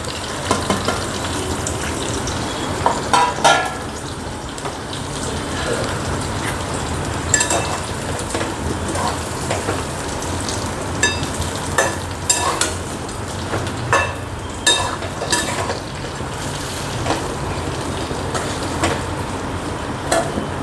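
A spice mix being stirred into stuffed chillies frying in a pan gives a steady soft sizzle, broken by repeated scraping and clinking stirs of a spoon against the pan.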